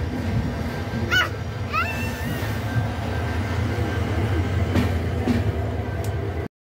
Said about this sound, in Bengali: বিমানবন্দর স্টেশনে আমাদের সাথে দেখা হয়ে গেল ঢাকা থেকে ছেড়ে আসা নেত্রকোনা মোহনগঞ্জ অভিমুখী হাওড়া এক্সপ্রেস